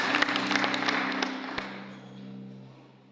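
A wedding congregation claps for about a second and a half in a sharp, brief burst that cuts off, leaving a low steady hum and faint room murmur.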